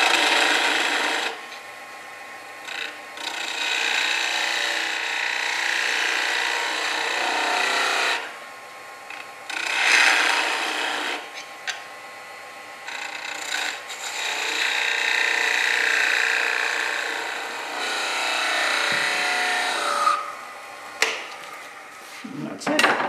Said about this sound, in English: so I'll go back to the spindle gouge